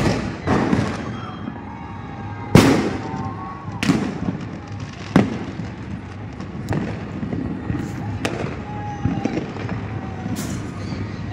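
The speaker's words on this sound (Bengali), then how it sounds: "কত বাজি ফাটছে দেখো।" Fireworks at a New Year 2024 celebration burst in repeated sharp booms and crackles, some near and some farther off, at irregular intervals, while people talk in the background.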